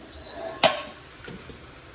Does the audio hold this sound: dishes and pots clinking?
yes